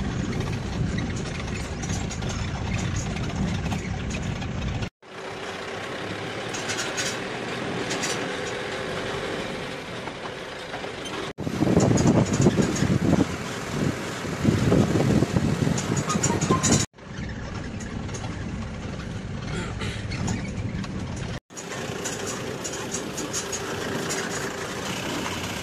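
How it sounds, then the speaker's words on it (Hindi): A tractor engine rumbles steadily as it pulls away after unloading gravel for a new house foundation. The drone stays loud and continuous, with no talk and a few abrupt breaks. "हो गए भाई ट्रैक्टर से गिट्टे डालने के लिए रवाना।"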